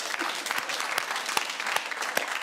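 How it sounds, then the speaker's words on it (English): A television panel-show studio audience claps briefly, a scattered ripple of applause with distinct individual claps, moderately loud and heard on its own. "That's the first loyal bit of applause I've seen."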